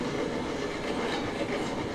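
In the Railroads Online video game, a heavy train rolls along the rails with a continuous loud rumble and faint clickety-clack texture, steady throughout and without talk.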